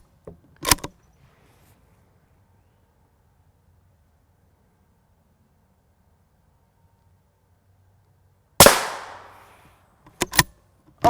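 M193 rifle rounds strike a Hoplite Model 26135X Level IV armor plate outdoors: a sharp crack near the start, a long quiet stretch, then a loud report with a trailing decay followed by two or three quick further cracks.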